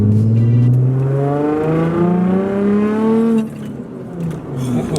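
An Infiniti G35 accelerating hard on a test drive, a loud rising engine note climbing through the gears with clear upshifts, then a drop in level as the throttle eases near the end.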